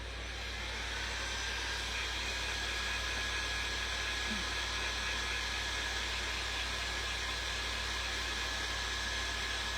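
A hair dryer blows steadily to dry fresh paint on a bottle, a loud, continuous whooshing hum with a constant tone that runs alone without a break.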